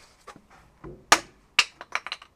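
A hammer strikes during clock restoration work, landing as a series of sharp, loud impacts, with one heavy blow followed by several quicker, lighter taps close by and no talking.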